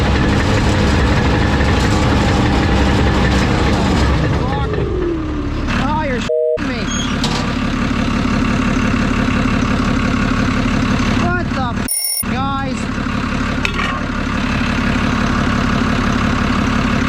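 Caterpillar D5G bulldozer diesel engine idling loud and close, a steady heavy rumble with a brief change in pitch partway through and short sharp interruptions, while someone talks over it.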